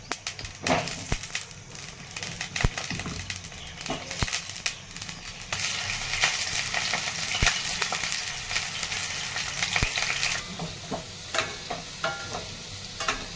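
Potatoes frying in hot oil in a pan for Marathi dum aloo, giving a steady sizzle with crackles and occasional scraping stirs of a spatula, close and continuous.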